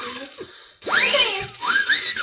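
Toy party whistles blown in short rising and falling toots, close by, three or four shrill bursts in quick succession with no talk.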